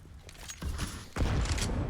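A grenade detonates during a professional CS:GO match at IEM Cologne 2021, two sharp broadband blasts about half a second apart, each followed by a rumbling tail amid game noise.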